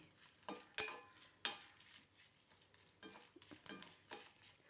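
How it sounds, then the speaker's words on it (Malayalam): Spices roasting and crackling in a hot pan for a special mango pickle, with scattered sizzling pops and a few sharp clinks of a stirring spoon against the pan, close and fairly quiet. "നമുക്ക് ഒരു ഇതങ്ങനെ ചടചട പൊട്ടുന്ന സൗണ്ട് മാത്രം മതി"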